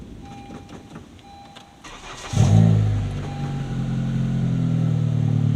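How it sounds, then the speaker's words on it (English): A turbocharged Honda Civic Si engine cranks and catches after a few quiet seconds, then settles into a loud, steady idle close by. "Let me start the car."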